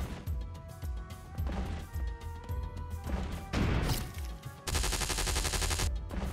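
Enemies firing at the player in the rage platformer Vox Pipuli Vox Dei 2, heard as scattered crashing shot impacts and a dense burst of rapid fire over steady game music, fairly quiet overall.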